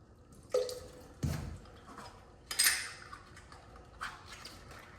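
A film developing tank holding stop bath is rotated by hand, giving a few sharp clinks and sloshing, dripping liquid sounds separated by quiet gaps.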